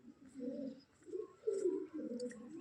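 Pigeons perched at a village house window coo softly in repeated low, rolling phrases, close by and fairly quiet, with a few faint chirps mixed in.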